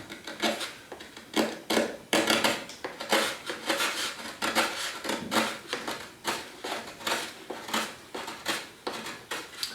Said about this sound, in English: just going to take a little carving knife and start carving down to that blue line